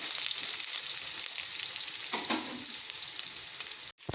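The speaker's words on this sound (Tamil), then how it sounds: "இப்போ கடுகு ஜீரகம் நல்லா பொரிச்சிட்டு வெங்காயத்தை போட்டுடலாம் வெங்காயம் நல்லா வதங்கணும்" Onions sauté in hot oil with mustard seeds and cumin, making a dense, close frying hiss. A brief stir scrape comes midway, then a sudden cut near the end, with no talk.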